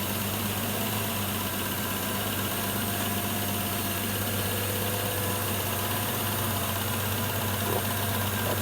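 A V12 twin-turbo engine fitted in a BJ40 LandCruiser, now with catalytic converters and mufflers, idles steadily and fairly quietly nearby, a continuous low hum and rumble with no talk.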